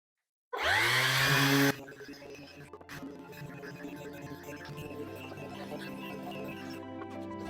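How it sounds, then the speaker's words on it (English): A power sander works an oak cutting board with cherry inlays. It starts with a loud, bright whine, then settles into a steady, lower grinding hum that runs for several seconds. "I'm going to sand a bit more now"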